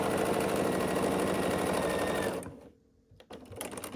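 A sewing machine runs steadily at close range as quilt rows are stitched together on a buffalo plaid Christmas tree quilt, then slows and stops near the end, leaving a brief quiet gap and some handling noise.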